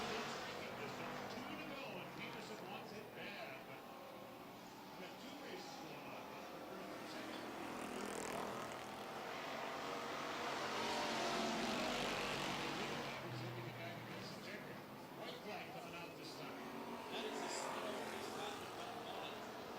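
Street stock race cars circling a dirt track on the last laps of a heat, a continuous distant engine roar swelling and fading as the field passes, with an announcer talking over it.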